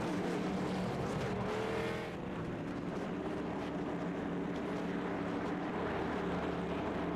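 Late Model race cars circle the North Wilkesboro track with six cars running. Their engines make a loud, continuous, wavering roar that dips slightly after the first couple of seconds and carries on alone.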